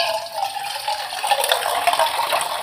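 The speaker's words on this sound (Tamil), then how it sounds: "இது கொஞ்சம் இந்த பதத்தில் நான் தண்ணி ஊற்றி வச்சுக்கிறேன்" Water poured into a cooking pot of vegetables set to boil for sambar, a close, continuous splashing gush with slight rattling, and nobody talking.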